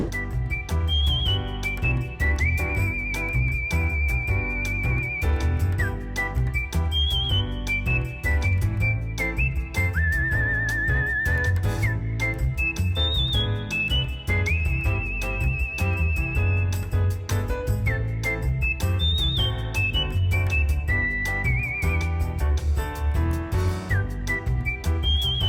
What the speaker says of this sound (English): Let's cue up a whistle song.